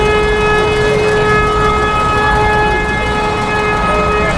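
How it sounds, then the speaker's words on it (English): Long, steady car horns blaring in traffic, loud and sustained without break, with strong tonal blasts overlapping and holding for several seconds near the listener. "Why are they honking for so long"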